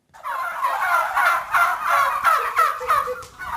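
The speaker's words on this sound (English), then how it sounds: "350 or so free-range organic turkeys sound on a wet and windy day in August" A flock of about 350 free-range organic turkeys gobbling loudly and close on a wet, windy day, overlapping warbling calls rising and falling in quick repeated bursts.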